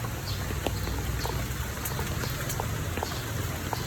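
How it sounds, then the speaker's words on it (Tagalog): Rain falls in a steady, dense hiss on a rainy morning, with scattered sharper drops tapping nearby surfaces throughout, fairly even in loudness and no one speaking. "lumalakas yung ulan guys"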